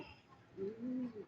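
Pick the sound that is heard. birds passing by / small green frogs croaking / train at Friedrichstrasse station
birds passing by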